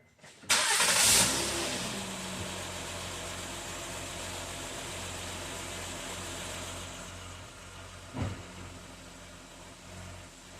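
A car with a suspected misfiring cylinder cranks and fires up with a loud burst, then settles into a steady, even idle that runs on alone, with a brief bump partway through.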